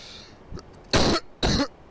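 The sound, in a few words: cough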